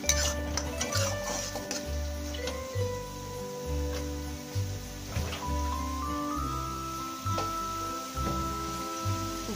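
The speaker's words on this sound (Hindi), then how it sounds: "जब मसाले हमारे अच्छी तरह से भून जाए तो हम इसमें अपने पहले से तैयार करे हुए मोमोज को वन बाय वन डालेंगे और उन्हें अच्छे से हम मसालों में लपेटेंगे" Momos being stirred and turned in fried masala in a pan, with steady scraping and clinking of a utensil against the metal, repeated low thumps recurring in an even rhythm, close and moderately loud with no talk.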